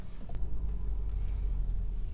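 A Porsche 718 Boxster GTS fitted with a new exhaust rumbles deeply as it pulls away up the road, a steady low growl that holds at moderate volume with slight rising revs.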